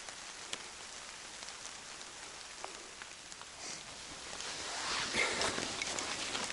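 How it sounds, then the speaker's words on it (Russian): Rain falls through a pine forest with a soft, faint patter of scattered drops on foliage, thickening into a denser wash near the end, with no talking. "Вот зарядил дождик."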